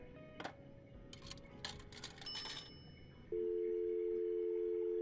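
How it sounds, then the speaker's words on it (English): Payphone in the video game Thimbleweed Park used with a dime: a few clinks and clicks of the coin and handset, then a loud steady tone droning on by itself. "Let's use dime and payphone."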